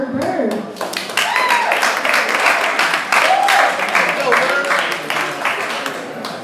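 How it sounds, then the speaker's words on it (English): An audience at an evening poetry slam claps in a lively round of applause, with close, sharp hand claps and scattered voices mixed in throughout. "Everyone give a round of applause for Bird."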